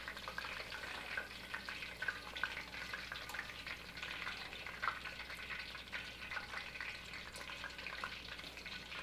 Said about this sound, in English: By deep frying stuff?